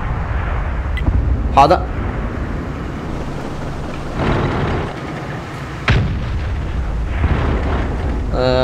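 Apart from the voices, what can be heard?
tank gunfire in the video game World of Tanks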